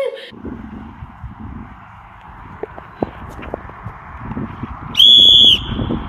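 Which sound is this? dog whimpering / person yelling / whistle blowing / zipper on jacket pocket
whistle blowing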